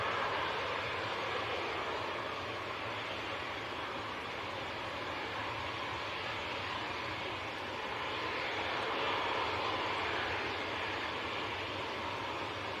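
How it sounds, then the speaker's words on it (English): A KLM Embraer E190 bound for Amsterdam begins its takeoff roll at Manchester Airport in crosswinds, a broad, steady jet-engine roar that stays loud and constant from start to finish. "KLM to Amsterdam and Embraer E190 lined up and ready to roll"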